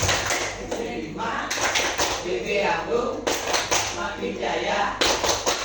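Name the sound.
group rhythmic clapping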